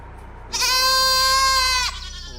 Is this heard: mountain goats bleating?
yes